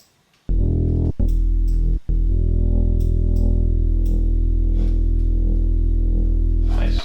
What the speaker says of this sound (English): introduce oscillator B through phase distortion